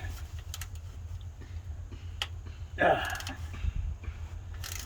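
A 9/16 wrench cracks loose starter bolts on a 1998 K1500 with a 5.7 L engine, giving a brief creaking, ratcheting squeal and a few metallic clicks near the middle over a low steady background hum.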